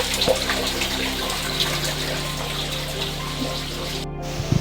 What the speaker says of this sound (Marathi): तिथं सुद्धा निरंतर पाणी वाहत आहे